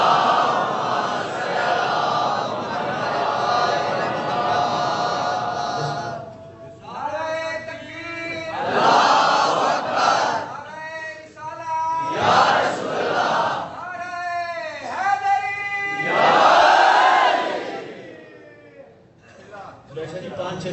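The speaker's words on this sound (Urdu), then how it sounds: "محمد و آل محمد بلند تر صلوات" Crowd at a Rajab religious gathering in D.I. Khan loudly reciting salawat together, a swelling chorus of many voices rising and falling in repeated waves of unison chanting.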